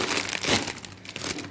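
A plastic snack bag from a carton of toy snacks crinkles and crackles as hands handle it, in close, busy bursts of rustling without talk.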